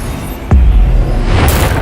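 A single deep, booming blast from a Bombarda spell in a wizard-school video game, hitting sharply and then rumbling on at a steady level with a brighter hiss rising near the end.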